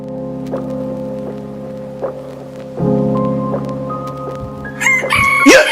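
A steady droning hum runs throughout, then a rooster crows loudly and close by near the end.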